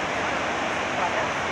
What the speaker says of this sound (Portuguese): Observem como está a cachoeira.